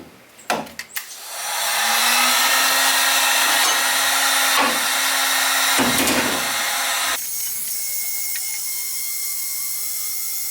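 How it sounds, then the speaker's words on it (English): A heat gun runs steadily with a broadband blowing roar for several seconds while a tracker boat's rod locker is being built, then drops to a quieter fan tone near the end, with a few clicks at the start. "I'm gonna take the heat gun"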